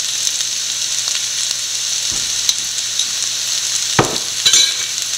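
Sliced onions and turmeric powder fry in a pan for a Kerala bitter gourd stir-fry, giving a steady close sizzle broken by a few sharp stirring scrapes near the end, with no voices.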